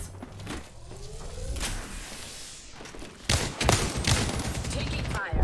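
Gunfire in the Apex Legends video game: sharp bursts and thuds crackle through a busy firefight, with a louder flurry of shots late in the sequence and faint in-game voice lines underneath.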